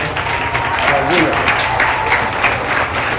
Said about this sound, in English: So how about a round of applause for these young people before I call them?